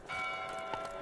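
A chapel bell rings inside a stone-walled fortress yard, a sustained bright tone with lingering overtones that holds steady for about a second, loud and close.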